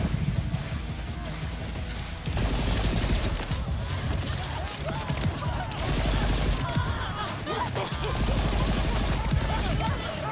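Continuous automatic gunfire from the video game Borderlands 4, a dense, loud rattle of rapid shots with crashes and impacts, with someone talking over the action.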